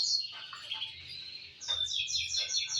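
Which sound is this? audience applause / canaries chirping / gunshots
canaries chirping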